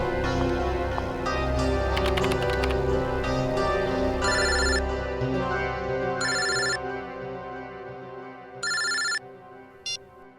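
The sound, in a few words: telephone ringing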